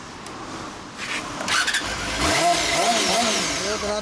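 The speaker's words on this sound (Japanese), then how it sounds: "エンジンかけます" A Honda Hornet 250 (MC31) motorcycle engine cranks and catches, then idles and revs up with a rising mid-pitched roar, heard close by.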